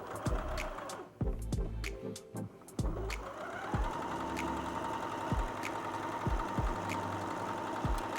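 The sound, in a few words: sewing machine sewing a seam on fabric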